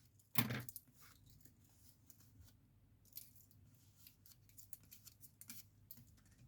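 Scissors snip a small piece for a handmade tag card: one sharp close cut near the start, followed by faint rustling and light handling of paper.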